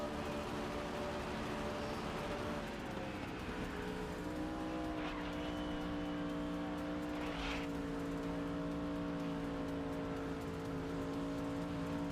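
Pinty's-style race car engines in the GRID Legends video game drone loudly and continuously, with layered engine tones shifting pitch as the cars accelerate, plus brief bursts of tire noise.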